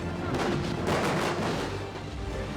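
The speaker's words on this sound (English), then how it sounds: "I'm just gonna make up some booms for you, all right? This will be very loud." Special-effects explosions on a film set: heavy, loud booms and rumbling blasts that overlap into a continuous roar, then ease slightly toward the end.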